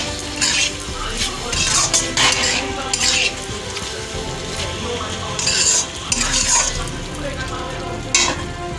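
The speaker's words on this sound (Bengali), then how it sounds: "সোয়া সস দেবো আর একটু চিলি সস দেবো। 2 মিনিট নাড়িয়ে নেবো," Food stir-fries in a pan with soy sauce and chili sauce, a busy close sizzle broken by repeated scraping strokes of a spatula and light clinks of metal against the pan.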